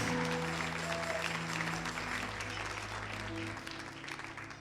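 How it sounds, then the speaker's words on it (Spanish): Church congregation applauding during a sermon, a steady wash of clapping over sustained organ or keyboard tones that lasts the whole stretch and fades slightly toward the end. "Denle un aplauso a Jesús."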